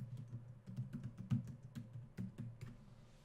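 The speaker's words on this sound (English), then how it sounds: "I'm going to try to fix him tapping away on his keyboard." Heavy typing on a computer keyboard, a quick irregular run of clacking keystrokes close by, heard on its own without talk.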